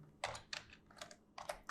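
Fingers type on a computer keyboard in a few quick bursts of clicky keystrokes, close and fairly quiet, with short pauses between groups.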